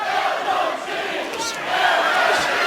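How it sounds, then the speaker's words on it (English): A crowd at a Cage Warriors MMA event in October 2017 chants steadily during a fight, a broad, loud roar of many voices that swells slightly toward the end. "And the crowd chanting Elbow City."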